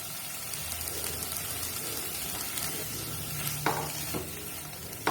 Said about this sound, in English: Now I will put them in the fry pan. Keep stirring.